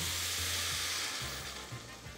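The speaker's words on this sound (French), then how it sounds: "on va venir mouiller avec le vin rouge" Red wine poured into a browned flour roux in a small pot, sizzling and hissing loudly and steadily without talk, with faint stirring bumps underneath.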